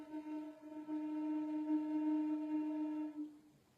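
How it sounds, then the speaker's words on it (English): A deep yucca Native American flute holds its fundamental note with all holes covered, a clean steady tone with soft harmonics, sustained alone for about three seconds before fading. "cover all of the holes, and breathe into the flute until you get the fundamental note that is"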